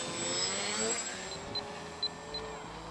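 A radio-controlled model airplane takes off at a club field, its motor a thin, steady whine at a moderate distance with a few brief higher tones over faint outdoor background.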